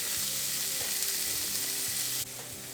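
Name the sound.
shrimp sautéing in a pan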